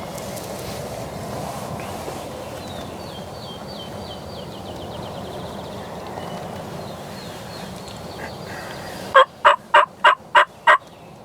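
Soft outdoor ambience with faint distant bird calls, then a burst of six sharp, evenly spaced loud clucks or putts from a nearby wild turkey hen.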